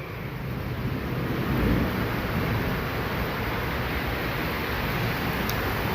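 A rainstorm roars as a steady, loud wash of rain and gusting wind, constant throughout with no voices.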